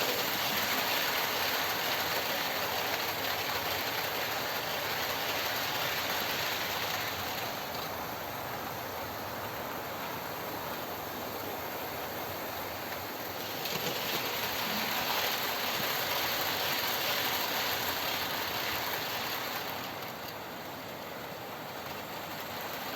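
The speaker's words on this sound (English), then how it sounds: "The goods train moving at a realistic 40 miles an hour" A model goods train running on a layout's top track, a continuous close mechanical whir and clicking rattle of wheels and gearing that holds steady throughout with slight swells.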